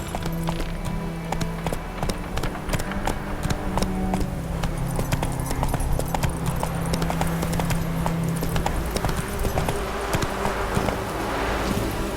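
Steady clip-clop of horse hooves at a brisk pace runs throughout in The Witcher 3, a continuous rhythmic clatter over ambient game sound, with no talk.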